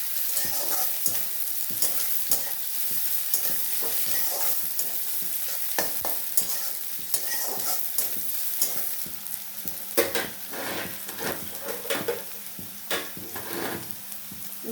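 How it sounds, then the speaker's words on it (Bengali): Onions fry in hot oil while a utensil repeatedly stirs and scrapes the pan, giving a steady close sizzle broken by irregular scraping clacks, a dish of prawns with red amaranth greens being cooked. "পেঁয়াজটাকে একটু ভালোভাবে ভেজে নেব।"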